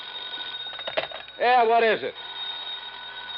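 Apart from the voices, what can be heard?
telephone ringing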